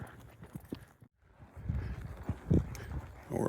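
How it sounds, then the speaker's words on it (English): Hooves of a small horse clip-clop on a cattle-hunting ride, a few sharp clops close by over rustling movement, with a short quiet gap before the noise builds again. "She's on a small horse."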